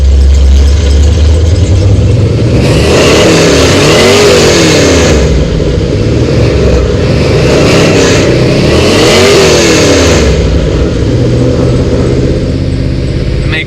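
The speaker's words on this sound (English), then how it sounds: "I'm going to go ahead and rev it up now." A loud 1985 C4 Corvette engine revs hard twice, climbing and falling in pitch, over a steady rumbling idle close by.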